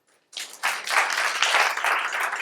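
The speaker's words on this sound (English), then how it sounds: "Round of applause" An audience claps together at a business talk, the applause starting abruptly after a brief quiet moment and holding steady as a fairly close, even wash of hand claps.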